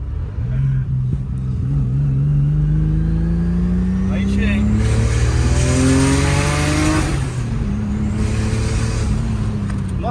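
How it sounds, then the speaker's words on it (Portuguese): A 400 hp turbocharged BMW accelerates hard, its engine note climbing through rising revs with a whistling turbo spool over a loud, close drone, while people in the car talk over it. "dá pra perceber a turbina entrando"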